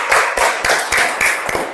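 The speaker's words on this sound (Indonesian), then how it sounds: "beri tepuk tangan untuk Feni." A classroom of students claps for a classmate, a short burst of close, rapid, uneven applause from many hands.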